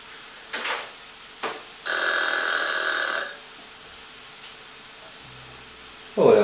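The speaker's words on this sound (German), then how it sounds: "der Wecker hat wieder geklingelt" Kitchen timer ringing in a single bright, sustained burst of about a second and a half over faint sizzling from potatoes frying with bacon and onions in a pan.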